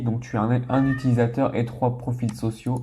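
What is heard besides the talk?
cat meowing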